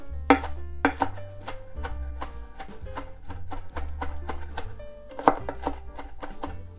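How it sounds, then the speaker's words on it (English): A knife coarsely chops arugula on a cutting board, producing a run of close, crisp, rhythmic thuds with a few louder knocks and no talk, soft background music beneath. "I'll need roughly 1 cup of chopped arugula, so I'm coarsely chopping this."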